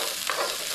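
Chopped onion hits hot oil at a roadside food stall, giving a loud, close, continuous hissing sizzle for a brief moment, with no voices.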